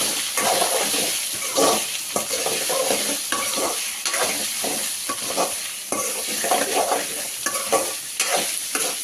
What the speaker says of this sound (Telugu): ఒకసారి మిక్స్ చేసేసుకొని హై ఫ్లేమ్ మీద పెట్టి మిక్స్ చేసుకోవాలి